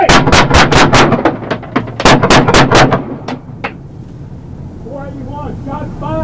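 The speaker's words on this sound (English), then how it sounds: "481, shots fired. Shots fired." A rapid burst of loud, close gunshots rings out during a police encounter after a high-speed chase, about a dozen cracks in two clusters, then a couple of spaced shots before wind noise and a voice take over.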